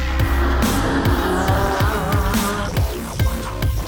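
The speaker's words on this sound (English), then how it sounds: "the sound of its V10 evokes all the raw, savage power you can imagine" A high-revving 600-horsepower V10 sports car engine roars and snarls through rapid gear shifts, loud and close, with repeated rises and drops in pitch.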